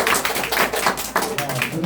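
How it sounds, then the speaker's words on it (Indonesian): Children at a Sunday school gathering in a home clapping their hands together in a quick, uneven patter of claps, close by, with voices mixed in. "Benar, tepuk tangan."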